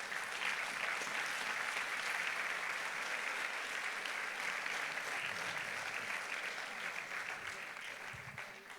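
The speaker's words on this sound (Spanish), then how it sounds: "Denle un aplauso a Dios" A congregation at a church plenary session claps together in a sustained, dense burst of applause that holds steady and then slowly thins toward the end, heard from within the hall.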